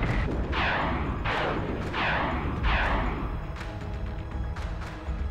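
A missile salvo in the Battlestar Galactica Deadlock space combat game: four rhythmic booming launches or blasts roll out in quick succession, followed by scattered smaller impacts and crackling explosions under a low rumble.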